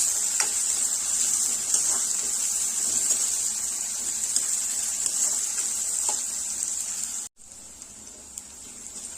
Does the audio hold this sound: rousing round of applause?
no